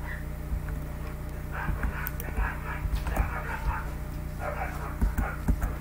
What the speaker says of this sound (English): my dogs are out there fighting.